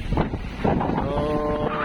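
Wind on open sea aboard a loaded fishing boat heading out in choppy water, a steady rushing buffet against the microphone with a low rumble of motion and no talk.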